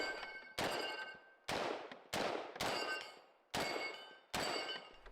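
A semi-automatic G36 rifle fires seven single shots at irregular intervals, each a sharp loud crack with a ringing metallic tail that decays before the next.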